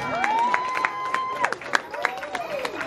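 A small group of people clapping and cheering at a forex trading seminar, with sharp scattered claps heard under a person talking.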